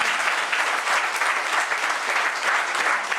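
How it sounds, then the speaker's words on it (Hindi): A church congregation at a Hindi sermon bursts into loud, dense, continuous clapping that holds at a steady level for several seconds, with no talking over it. "ताली बजाइए जो आगे बैठे।"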